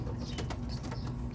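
A young pigeon (squab) of the kolong racing breed coos softly and repeatedly in a low, steady murmur, close by with no talk.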